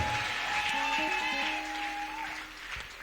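A church congregation at a revival campaign in Ngaoundéré applauds and cheers a miracle, with steady clapping throughout, organ-like tones underneath and voices mixed in.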